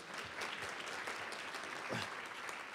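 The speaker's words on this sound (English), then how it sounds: "Round of applause." A roomful of people at a university organizational talk claps in steady, moderate applause, heard from some distance and fairly faint, with no talking over it.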